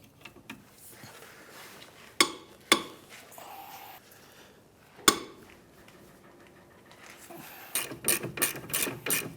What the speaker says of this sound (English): We have a 17mm socket on a breaker bar.